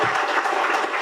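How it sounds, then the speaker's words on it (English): Guests at the launch event for a marine services company applaud a family standing for recognition, with brief, dense clapping from a sizable crowd and no voices over it. "give them a resounding round of applause"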